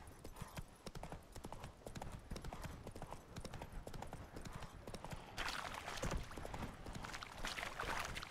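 Hooves of Roach, a horse in The Witcher 3: Wild Hunt, clip-clop in a steady walking rhythm throughout, close and clear, with a brief whinny-like texture and brighter ambient noise joining in the latter part.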